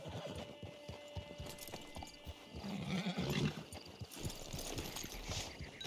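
Horse hooves clopping in the Red Dead Online video game, a quick irregular patter of faint hoofbeats amid game ambience, with a brief snort near the middle.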